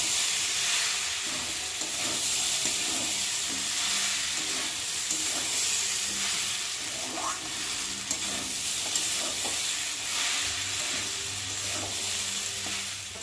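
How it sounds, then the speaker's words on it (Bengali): Sago frying with vegetables and tomato in a pan while being stirred, a continuous loud sizzle with scraping stir strokes and occasional pops throughout, no talking. "সাবুটা দিয়ে সবজির সাথে ভালো করে ভাজা হয়ে গেছে"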